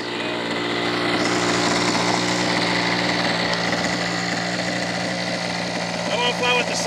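Small engine of a Seagull Models PC-9 RC model airplane running steadily on the ground, a loud, continuous buzzing drone with a stable pitch throughout, while people can be heard talking nearby.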